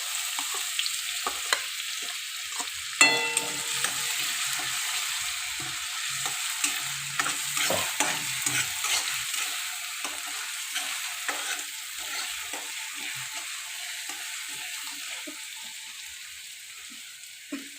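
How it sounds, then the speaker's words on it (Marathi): Ground green chilies sizzle and fry in hot oil in a pan, a steady crackling hiss with occasional stirring scrapes close by, slowly settling quieter toward the end. "आता तेल पण तापलेलं आहे, त्यामध्ये मी वाटून घेतलेलं हिरव्या मिरच्या ज्या आहेत त्या टाकते."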